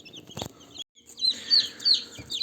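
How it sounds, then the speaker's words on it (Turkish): High, thin peeping from several newly hatched chicks repeats in quick bursts, close by, with a brief rustle and a short pause partway through. "Arkadaşlar çıkan civcivlerimiz şu anda bu kadar."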